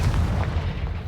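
A Confringo fire spell blast in Hogwarts Legacy, a dense low rumbling boom that rolls on steadily for about a second at close, loud level with no talk over it.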